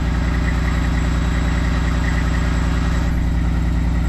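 A Kenworth cabover truck engine under restoration idles smoothly and steadily, a close, even low rumble that holds unchanged throughout with no voices.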